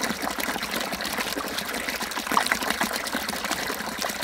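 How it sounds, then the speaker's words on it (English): Water pours out of the delivery pipe of a small ram pump fed from a drained source bucket, a steady close trickling gush with faint splashes and no talking. "I'm going to open up the delivery valve and let the water flow back out."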